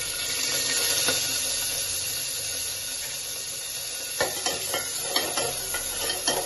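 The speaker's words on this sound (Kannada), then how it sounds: "ಸಾಸಿವೆ ಚಟಪಟ ಅಂದ್ಮೇಲೆ ಕರ್ಬೇವಿನ ಸೊಪ್ಪು ಹಾಕ್ಬೇಕಾಗುತ್ತೆ" Curry leaves dropped into hot oil where mustard seeds are spluttering, while making a traditional spinach (soppu) sambar; a steady broadband sizzle throughout with sharper crackling pops bursting near the end, close and fairly loud, no talking.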